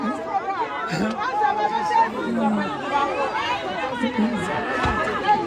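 Dense crowd chatter at Parkoso during a funeral visit, many overlapping voices talking at once in a steady, close babble with no single voice standing out.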